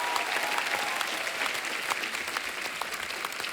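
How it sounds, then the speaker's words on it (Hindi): Studio audience on The Kapil Sharma Show, a Hindi comedy show, applauds for Mumbai dabbawalas, a steady, dense wash of clapping that holds evenly through the whole clip without pause. "इनके लिए जोरदार तालियां हो जाए।"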